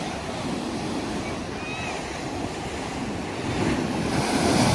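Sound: stormy sea waves crashing

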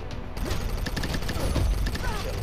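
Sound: MAC submachine gun fire in a mobile shooter video game

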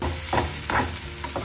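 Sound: sautéing ginger and dried red chilies in a pan

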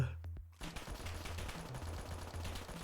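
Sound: gunfire in Roblox video game

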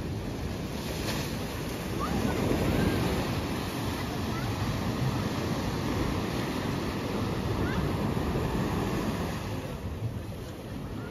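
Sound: sea waves in Odessa

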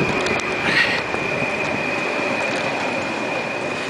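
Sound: train running on rails

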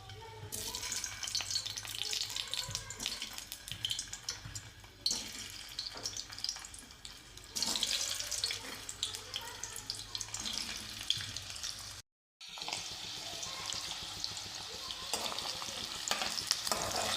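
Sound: potatoes frying in hot oil

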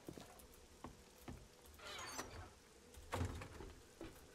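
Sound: rain falling in the video game 7 Days to Die

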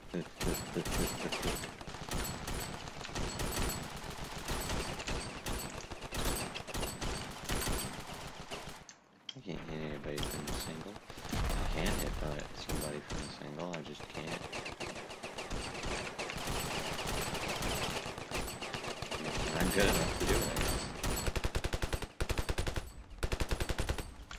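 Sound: grease gun firing in the video game Ravenfield

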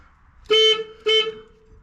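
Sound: overload clutch sensor warning horn

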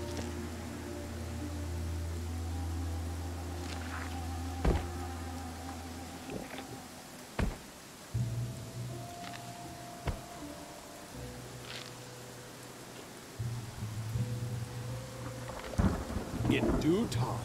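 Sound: rain and thunder in a video game

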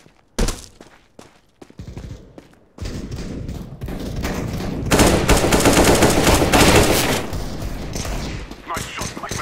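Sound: gunfire in video game Counter-Strike: Global Offensive

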